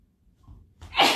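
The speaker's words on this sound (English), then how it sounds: "I'm going to sneeze." A yoga instructor lets out a single sneeze during a gentle home yoga session. A faint breath comes first, then one sharp, close, loud burst at the very end, with no talking.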